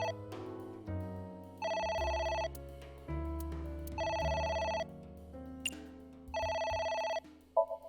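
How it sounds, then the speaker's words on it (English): Telephone in the video game AI: The Somnium Files rings in repeated bright electronic bursts over a soft musical background, several rings with short gaps between them and no talk. "It's ringing again."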